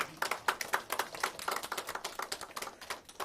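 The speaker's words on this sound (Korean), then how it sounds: "박수 한번 쳐주십시오." Scattered applause from an audience at a political rally endorsing a presidential candidate, a steady run of fairly faint claps lasting a few seconds with no voices over it.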